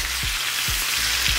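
Salmon skin crisping in a hot pan, a loud continuous sizzle with three soft low thumps spaced through it, close up and without speech.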